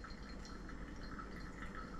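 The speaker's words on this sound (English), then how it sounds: "I'm going to start pouring again." Water poured steadily over coffee grounds during a pour-over brew, a continuous soft trickling and hissing stream with no breaks, faint and close.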